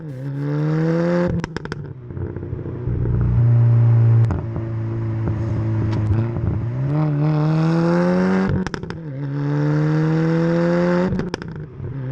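An Audi 8P S3 with a manual gearbox and 336 bhp drives along B roads, its engine droning loudly and steadily, rising in pitch under acceleration, with brief dips at gear changes and a few clattering crackles.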